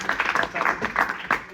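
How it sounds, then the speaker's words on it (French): Short burst of classroom applause from high school students, scattered hand claps in a brief uneven patter with voices mixed in. "on peut applaudir Jérémy."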